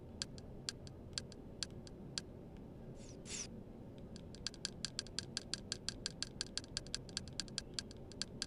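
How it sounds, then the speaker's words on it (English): Sharp computer keyboard key presses, including backspace, tick in a quick irregular run and then a denser rapid burst, faint and close with no talk. "So I just hit backspace there"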